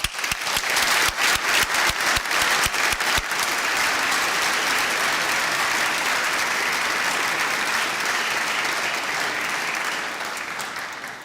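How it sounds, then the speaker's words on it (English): Applause at a master's graduation ceremony: a large audience claps loudly with sharp individual claps at first, then merges into a sustained dense roar that fades slightly near the end. "and a big applause for you."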